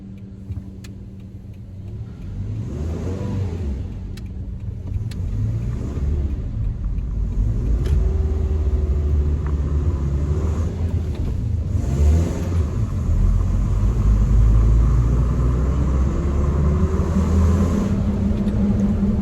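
A truck engine with a five-speed manual transmission runs steadily and rumbles up and down through gear changes as a teenage driver works the clutch and gas, loud and continuous throughout.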